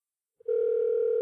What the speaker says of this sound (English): No, it's still ringing.